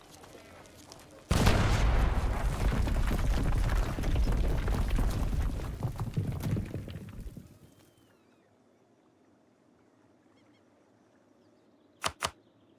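An artillery barrage in Europa Universalis IV sets off a sudden loud, dense roll of booming gunfire that rumbles for several seconds and fades to near silence, followed by two brief sharp clicks.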